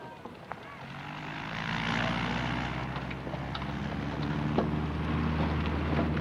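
A tug aircraft engine drones steadily as it tows a glider on takeoff at a 1970s gliding field, the propeller roar swelling and holding under wind buffeting on the microphone.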